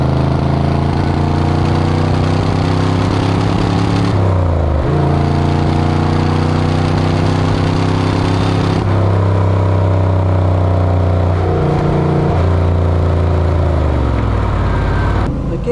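A 1972 De Tomaso Pantera's 5.8-litre V8 revs loudly and close up, its rumbling harmonics climbing and dropping through several blips with a steady idle between them, no talk over it.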